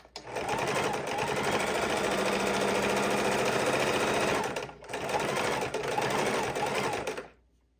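A sewing machine runs steadily while stitching a fidget quilt, with a brief pause near the middle before it starts again and runs to a stop.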